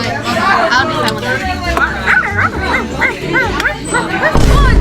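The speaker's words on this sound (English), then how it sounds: "Who's barking right now?" A dog barks and yips repeatedly in short bursts amid a lively household, close and fairly loud, mixed with people talking and chattering in the background.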